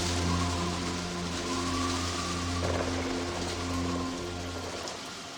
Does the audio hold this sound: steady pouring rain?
yes